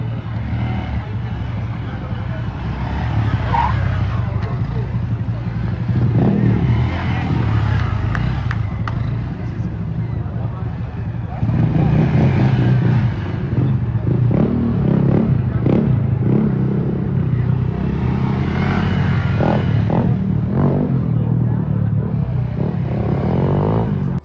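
A motorcycle being stunted in Chicago revs and roars in repeated surges, loud and close, with clattering and the hum of traffic around it.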